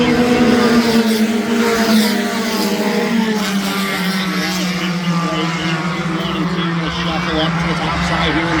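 Race cars at Adams County Speedway during a heat race with contact racing, engines roaring steadily in a loud, continuous drone with shifting pitch as the pack runs the corners, an announcer talking over it throughout.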